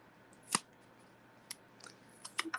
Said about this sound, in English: And I'll just cut out this other one.